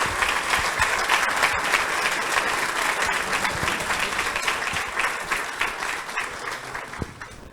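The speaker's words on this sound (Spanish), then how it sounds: "así que se merece un fuerte aplauso" An audience at a municipal presentation on flooding applauds loudly and continuously, a dense wash of many hands clapping close by that fades slightly toward the end.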